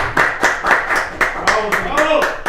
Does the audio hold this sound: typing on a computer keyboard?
no